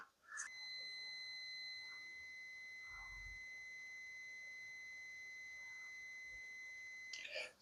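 A multimeter set to continuity gives a steady electronic beep while probing glow plugs, the tone sounding continuously for about seven seconds with short clicks at start and end.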